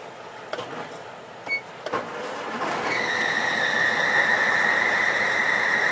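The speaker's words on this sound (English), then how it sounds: "Start the truck." A Class A truck's engine cranking and catching in the cab, a rising mechanical whir that settles into a steady, continuous running tone with a high whine on top.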